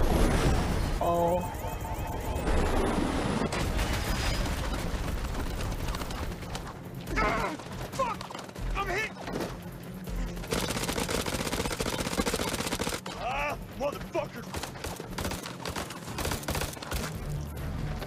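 Gunfire in the video game House of Ashes, with bursts of automatic fire and shots crackling over a loud, busy battle mix, joined by shouted voices and the clatter of combat sounds throughout.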